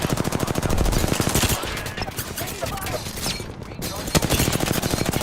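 Rapid, sustained automatic gunfire from enemies in Apex Legends, loud and dense with continuous overlapping bursts and only brief lulls. Another voice may be faintly present underneath.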